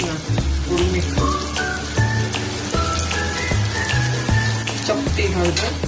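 Tomatoes and onions sizzle steadily in a pan with spices, a continuous crackling fry with scattered pops and a few light clinks of stirring, close and fairly loud, with no talk.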